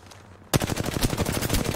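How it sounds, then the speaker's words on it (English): Gunfire in the video game Apex Legends: after a quiet half second, a loud rapid burst of automatic shots starts abruptly and continues in quick, close, evenly spaced cracks. "And we're getting shot."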